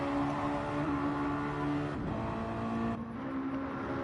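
Race cars in Gran Turismo 7 accelerate into the first corner of a game race, a steady loud engine drone with shifting pitch and a brief dip near the middle, no voices over it.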